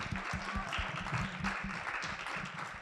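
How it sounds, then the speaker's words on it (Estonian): Audience applause at an Estonian literary evening celebrating women's literature award nominees, a steady crowd of clapping hands close and continuous with a faint voice briefly underneath. "Aga siis aplaus Andrale."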